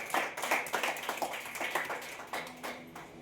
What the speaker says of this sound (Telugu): చప్పట్లు కొట్టి దేవుడికి కనపరచండి.